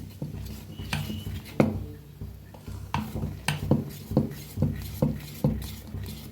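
A spoon mixes fermented dosa batter, thinned with a little water, in a bowl, giving a quiet, steady rhythm of clinks and scrapes against the bowl at close range.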